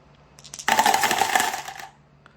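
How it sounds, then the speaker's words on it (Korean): A handful of dice rattles loudly into a dice box during a Korean dice board game, a dense clattering burst of about a second after a few light clicks, then settling to quiet. "그럼 어쩔 수 없이 검은색은 자신이 가지고 있는 주사위 모두를 주사위함에 굴리게 됩니다"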